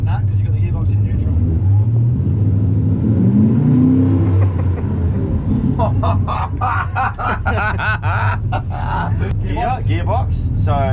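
A jet boat's engine idles and revs with the gearbox in neutral, a continuous low rumble rising and falling in pitch, while people talk over it close by.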